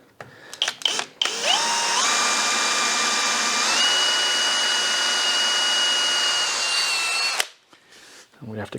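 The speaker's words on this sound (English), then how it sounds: "let's drill a few holes and screw this in place" A power drill bores holes in wood at a workshop bench: after a few short clattering knocks, a loud, steady motor whine runs for about six seconds, its pitch stepping up as it spins, then cuts off abruptly.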